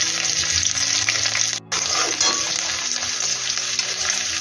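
Chopped garlic, ginger and green chilli fry in leftover oil for egg chilli, making a continuous bright sizzle with light stirring scrapes and a momentary cut partway through.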